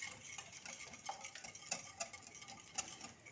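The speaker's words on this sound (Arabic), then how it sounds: "هكذا خلطوهم مليح" Whisk or spoon scraping repeatedly through oil and dough ingredients in a bowl while making bread, a soft, steady run of light clicks and taps with no talking.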